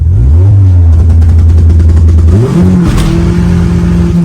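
A car engine with a 22RE motor and a 2-step launch control held in first gear, loud and close, droning at a steady high rev before the pitch shifts and climbs as it launches.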